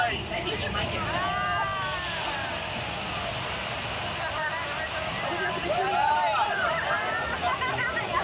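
A flash flood water effect rushes on the Universal Studios Hollywood back lot tram tour in 1989, a broad roar of water behind a crowd of riders, with excited voices and shrieks rising over it.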